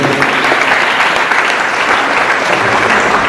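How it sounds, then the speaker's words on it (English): Loud, sustained applause from a large audience, steady clapping filling the space without pause. "Please, applause for Jayshree and her team."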